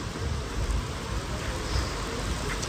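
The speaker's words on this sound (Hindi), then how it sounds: "शदीद बारिश आ गई है।" Heavy rain pours down in a dense, steady roar, with a constant hiss and no breaks.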